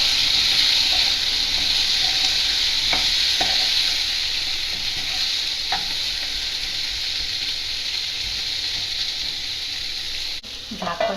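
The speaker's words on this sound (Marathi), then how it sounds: "आता हे सगळं घातल्यावर आपण परतवणार आहोत." Brinjal bhaji with peanut powder and jaggery sizzles in a pan while a spatula scrapes and stirs it in a few distinct strokes over a steady frying hiss, close up, ending with a clunk.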